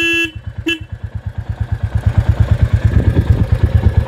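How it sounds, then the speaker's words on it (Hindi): A Royal Enfield Classic 350 motorcycle horn honks once, then gives a short second beep, followed by the engine idling close by with a steady, thumping pulse. "हॉर्न का जो आवाज़ है वो सुन सकते हैं"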